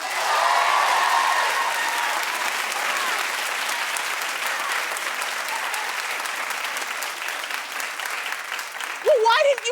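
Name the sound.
studio audience clapping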